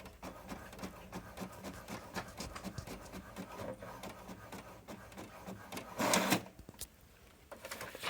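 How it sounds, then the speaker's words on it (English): A printer works nearby with rapid mechanical clicks and whirring, steady and fairly quiet, then a short louder burst as the page feeds through. "you can hear that the printer is printing it out"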